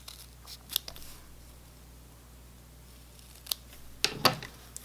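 Scissors snip off small thread tails of white fabric while sewing a SCUBA flag mask, a few short crisp cuts close by, with sharper clusters near the end and quiet between.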